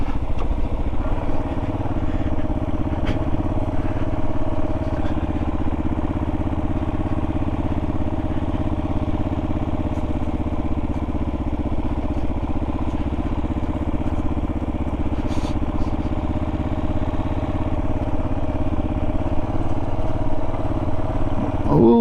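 A Kawasaki KLR650 motorcycle rides over rough, bumpy ground, its single-cylinder engine a loud, steady low drone with wind and occasional knocks, heard close from the rider's position.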